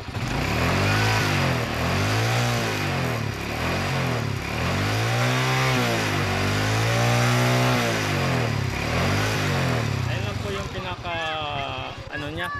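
Motorcycle engine revving repeatedly with a 50V 10000uF capacitor wired in series to a weak battery, rising and falling surges close by, ending in a higher whine, with someone talking briefly.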